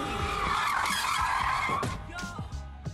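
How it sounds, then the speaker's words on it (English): Car tires squealing as a car drifts into a road median and then speeds away, a loud sustained skid followed by engine revving and fading tire noise. "drifting into a median and then zooming off"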